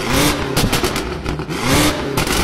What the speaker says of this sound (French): Les sorties d'échappement en carbone signées Akrapovic avec un son juste sublime.